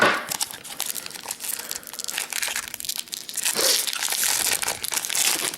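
Plastic wrapper of a Magic: The Gathering fat pack crinkling and tearing open, close and continuous with irregular crackles throughout, no talking.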